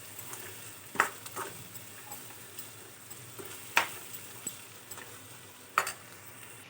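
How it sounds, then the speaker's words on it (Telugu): Ivy gourd fry with peanuts and coconut powder being stirred in a pan, a soft sizzle underneath with three distinct spoon knocks against the pan spaced about two seconds apart, close and without speech. "కొబ్బరి పొడి వేసుకున్న తర్వాత బాగా మొత్తం మిశ్రమం మొత్తాన్ని కలుపుకోవాలి మరొకసారి"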